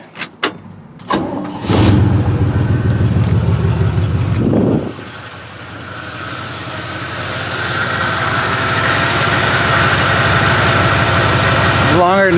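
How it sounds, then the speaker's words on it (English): A 1973 C60 dump truck with a newly installed engine cranks with a few sharp knocks, catches with a loud roar, and drops into a steady, rough, close-up idle that builds slightly over the following seconds. "Longer than that motor has run in 2 decades. She's running fine."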